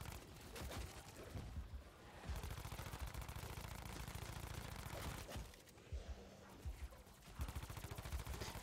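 Submachine gun fire in Call of Duty Zombies comes in rapid bursts of shots, with loud rattling volleys that break off briefly and then start again, under some game noise.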